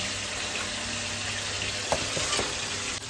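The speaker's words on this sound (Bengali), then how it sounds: "মাছ ভাজা হয়ে গেছে এটা তুলে নেবো" Pabda fish frying in a pan makes a continuous close sizzle and crackle, with a few light utensil knocks partway through and no voices.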